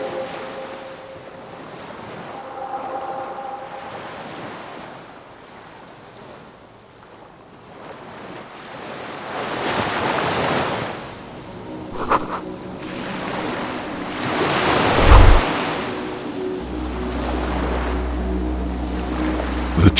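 Ocean waves and wind on a coast in the Disco Elysium video game, a steady washing surge that swells louder in the second half with a low engine-like rumble near the end.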